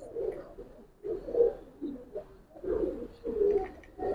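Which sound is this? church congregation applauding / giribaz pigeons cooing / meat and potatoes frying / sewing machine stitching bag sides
giribaz pigeons cooing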